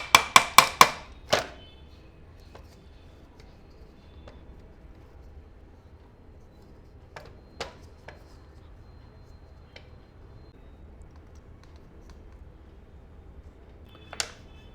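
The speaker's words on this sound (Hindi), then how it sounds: "यहाँ से हथौड़ी मारना है" Light hammer taps on the shaft of a bag closer stitching machine during repair: four quick, sharp close taps and one more, then scattered faint clicks in a quiet room.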